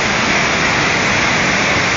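Rushing river water at the confluence of the upper and lower St. Vrain after dams broke upstream, a loud, steady, dense roar with no break throughout.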